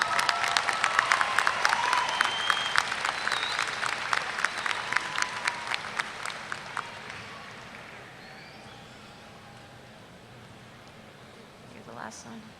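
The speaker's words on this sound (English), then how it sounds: "let's give her a round of applause" An audience at a spring university commencement in Corpus Christi, Texas claps for several seconds, dense applause that gradually thins into scattered claps and fades to quiet room ambience.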